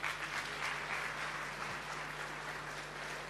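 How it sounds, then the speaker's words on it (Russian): A church congregation applauds with a steady, dense wash of clapping from many hands indoors, evenly sustained for the whole stretch, somewhat distant and soft. "Дайте аплодисменты им."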